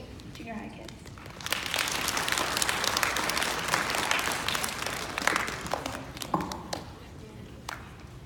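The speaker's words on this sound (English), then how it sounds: "let's give a warm applause for our brave junior high kids" An audience applauds junior high kids at a church service event, a sustained wave of clapping rising after a moment, then thinning into scattered claps near the end.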